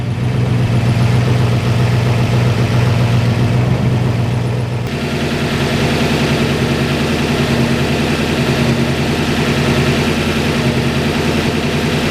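Solid lift cam 481 engine running in a 1964 Chevy C10 truck, a steady, close, loud idle with a lumpy rhythmic pulse that shifts slightly in tone partway through.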